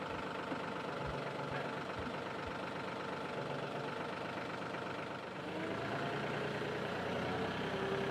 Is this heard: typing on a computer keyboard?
no